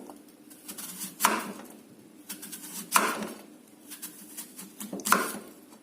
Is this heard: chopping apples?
yes